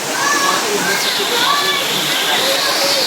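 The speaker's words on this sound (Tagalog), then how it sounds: "Pumasok na yung mga baha sa bahay nila." Floodwater from a typhoon in Quezon City pouring into houses, a loud, continuous rushing and sloshing close by, with faint voices in the background.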